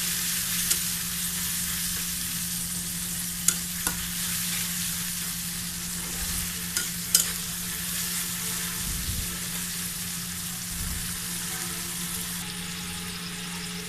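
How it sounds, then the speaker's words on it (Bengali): Spice paste frying in oil in a pan: a continuous crackling sizzle lasts the whole stretch, with occasional sharp pops and a few soft utensil knocks, close and steady. "মশলাটাকে ভালো করে কষিয়ে নিতে হবে তেল ওঠা পর্যন্ত"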